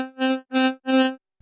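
Three short blown bursts through a Greaten AP500 Pro electronic wind instrument, each a loud synthesized tone rising and falling with breath pressure, evenly spaced with brief gaps, followed by a faint click.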